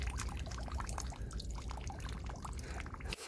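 Water is poured over freshly caught crabs at the waterside, a soft, continuous trickle with small splashes and drips under a faint outdoor hum.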